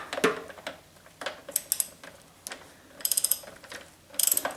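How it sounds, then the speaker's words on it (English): Ratcheting wrench on the fork of a Suzuki DR650 motorcycle, giving several short bursts of quick metallic clicks, close and fairly quiet, with pauses between strokes. "Just sticks our wrench on there."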